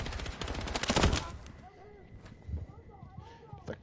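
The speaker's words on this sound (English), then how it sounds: "Oh, being shot at from behind." Battlefield 6 gunfire crackles in a rapid automatic burst that peaks early, then gives way to quieter scattered shots and distant battle sounds.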